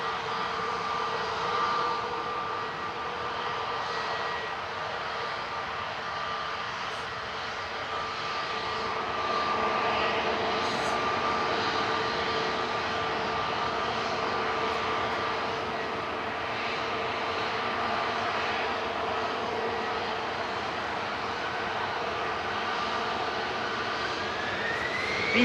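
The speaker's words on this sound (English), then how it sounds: "EasyJet departing now to Prague." An EasyJet jet airliner departs Manchester Airport for Prague, its engines a steady, moderately distant roar with a thin whine that holds for the full length and swells slightly midway.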